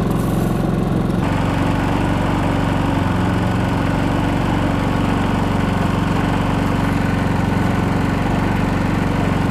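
A portable generator idling close by, a loud, steady engine drone with a constant mechanical hum and no speech, its tone shifting slightly just after the start.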